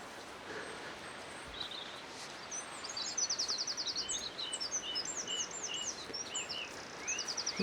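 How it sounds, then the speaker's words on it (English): A song thrush sings from below an overgrown path in the countryside, giving bright, repeated whistled phrases at moderate distance over a soft outdoor hush, steady through the second half. "Little song thrush down there singing."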